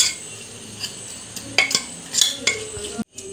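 Spices for a homestyle chicken curry being stirred in a hot pan, with a spoon scraping and knocking against the metal in a few close bursts over a low sizzle before a sudden stop.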